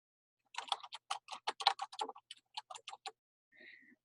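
Typing on a computer keyboard, a close quick run of crisp separate key clicks in short bursts, then a brief pause and a softer final press, heard alone in a quiet room.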